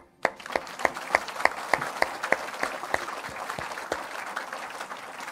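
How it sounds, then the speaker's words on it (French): A congregation at a church revival meeting in Evry applauding, a burst of many hands clapping in a fairly quick, uneven rhythm that starts sharply and carries on steadily, fading slightly toward the end. "on acclame le Seigneur"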